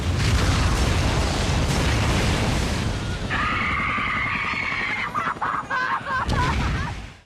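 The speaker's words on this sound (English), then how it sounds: "Jin and Michael are shown to be killed in the explosion." A freighter explodes in the TV series Lost, a loud, dense wall of booming blast and rumble filling the first seconds, then a sustained roaring, rushing body of sound with scattered crackling bursts trailing off near the end.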